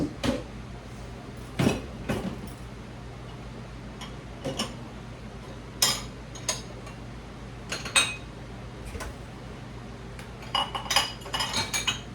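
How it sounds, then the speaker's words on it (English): Dishes and cutlery are loaded into a home dishwasher in a kitchen, with scattered clinks and clatters of plates and silverware at irregular intervals over a low steady hum, and no talk. "Put some dishes in the dishwasher"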